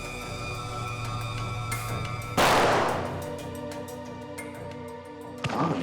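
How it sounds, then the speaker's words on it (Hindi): A robber's gun fires a sharp, loud shot that rings out and decays over a low droning background, with a fainter knock near the end, in scene footage from a crime drama. "गोलियां तो लुटेरे ने अंधाधुंध चलाई है सर।"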